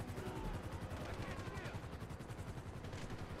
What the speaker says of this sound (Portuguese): Tem algo me atirando de cima, galera.